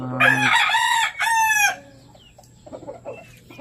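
A rooster crows twice, loud and close, in a chicken coop. Softer clucking from the hens follows against a quiet background.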